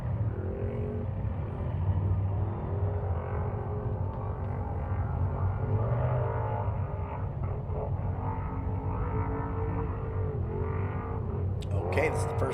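Racing truck 6155 laps the track during qualifying at the State Line Shootout, its engine droning steadily with rising and falling pitch, while an announcer talks throughout.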